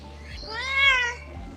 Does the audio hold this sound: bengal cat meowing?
yes